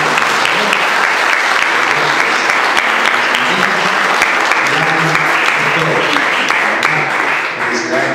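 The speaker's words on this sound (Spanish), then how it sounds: "Démosle un fuerte aplauso a la mamá." Dense, steady applause from a wedding audience honoring the bride's mother, loud and continuous for about eight seconds, with faint voices or background music murmuring underneath.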